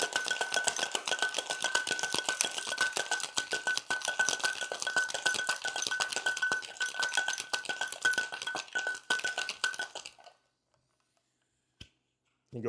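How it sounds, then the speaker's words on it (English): A Pegu Club with gin and orange liqueur shaken hard over ice in sealed shaker tins, a loud, fast, steady rattle of ice lasting about ten seconds close up, then it stops abruptly, leaving near silence and a faint clink. "and then shake for about 8 to 12 seconds."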